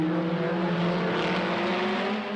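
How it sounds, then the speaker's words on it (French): A Renault Alpine A210 race car with a 1300 cc Renault Gordini engine drones steadily at high revs, a sustained mechanical whine holding pitch throughout with no voices. "Parmi les concurrents français, les Renault Alpine type A210."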